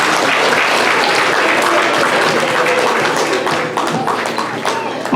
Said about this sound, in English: All right, let's give them another big round of applause as this group exits the stage.